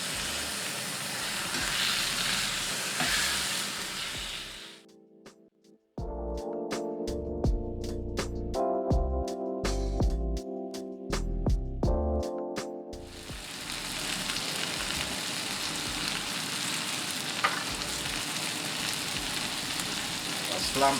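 Chicken for homemade kebab or shawarma cooks in a pan with a loud, steady sizzle. A tonal passage breaks in midway, then the sizzle resumes.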